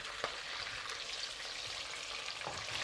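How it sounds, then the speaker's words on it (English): Oil sizzles and crackles steadily as tofu fast-fries in a hot wok, a dense, continuous frying hiss with occasional louder pops and no talking. "Why are we fast frying this?"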